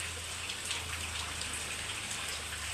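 Steady rain falls on a veranda on a market day, a continuous soft hiss of drops on surfaces with no voices, holding at an even level throughout.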